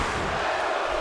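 A wrestling arena crowd in WWE 2K16 chanting for Cena, a steady dense roar of many voices filling the brief moment.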